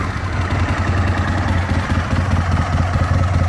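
A twin-cylinder engine of the Aprilia RSV 1000 runs at a steady low idle, throbbing evenly and loud up close with no voices.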